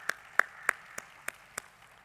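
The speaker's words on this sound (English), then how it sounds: "Let's give a round of applause to Leslie." Slow, evenly spaced claps at an award event, about six distinct hand claps in a row, sharp and fairly close, with quiet between them rather than a full crowd ovation.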